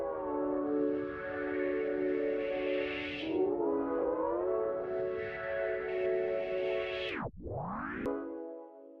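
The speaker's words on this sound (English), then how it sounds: "it starts off with pad sound and a tape stop" A soft ambient pad from a trap beat sustains with shifting harmonic tones, then a tape-stop effect drags the pitch sharply down to nothing. A brief tonal return follows and cuts off.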